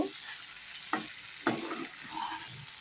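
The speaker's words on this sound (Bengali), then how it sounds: "কুপিটা আর আলুটা দিয়ে একটু ভালো করে কষিয়ে নেবো" Cauliflower and potato with spices being stir-fried in a pan: a soft continuous sizzle with two sharp spatula scrapes and some quieter stirring.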